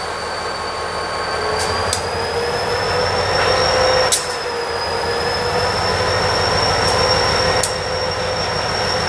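A freight train on the NYS&W Utica branch near New Hartford, New York, shoves a boxcar back, with a steady rolling rumble under sustained high wheel squeal and a few sharp metallic screeches, close and loud throughout.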